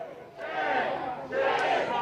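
A crowd of protesters outside a building shouts in unison as ICE agents emerge, giving two loud, sustained bursts of chanting voices with a brief dip between them.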